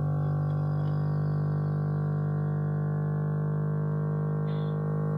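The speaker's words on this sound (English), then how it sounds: "was the brake vacuum pump filling up that little cylinder with vacuum." A steady electric hum drones continuously with a low mechanical buzz from an electric car's brake vacuum pump running nearby, with faint clicks near the start and end.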